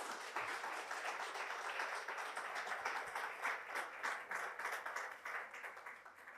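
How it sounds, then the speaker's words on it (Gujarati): A hall audience at a lecture bursts into sustained applause to welcome cardiothoracic surgeon Dr. Anil Jain, a thick, continuous patter of many hands that holds steady for several seconds before easing off slightly. "તો આપણે સૌ તાળીઓથી વધાવીએ છીએ"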